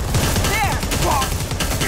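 Sustained, dense automatic gunfire rattles continuously in the Predator: Hunting Grounds video game, loud and unbroken across the moment, with brief shouted voices mixed in.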